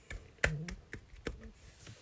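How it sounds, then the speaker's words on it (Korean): A few soft, uneven hand claps sound close by but fairly quiet during an Instagram live stream, with no voices over them. "아무튼 박수 드리겠습니다."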